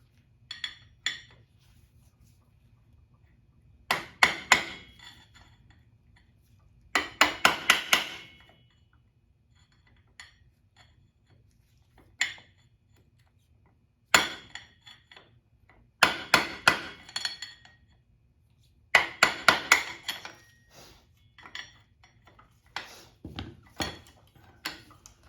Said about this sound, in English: just hit those down so the nut can't come loose.